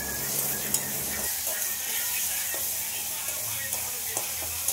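Spices and onions sizzle and fry in a pan for an egg curry, with a steady crackling hiss, some stirring scrapes and light clinks of utensils throughout.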